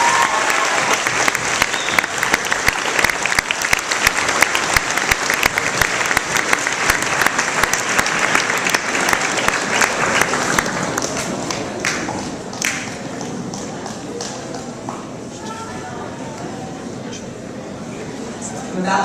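Sustained applause from a school audience at an award ceremony, dense clapping filling the room, easing slightly toward the end with scattered claps continuing.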